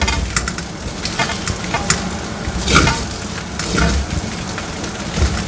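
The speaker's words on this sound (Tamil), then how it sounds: "நம்ம இப்போ இந்த நூடுல்ஸில் டிக்கா சேர்த்துருக்கோம். இது பக்குவமாக கலந்து விடணும்." Paneer tikka pieces tossed through noodles in a hot pan, with steady scraping and stirring over a low sizzle, occasional louder clinks of a utensil against the pan.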